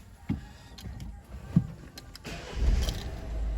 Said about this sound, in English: Car starts fine.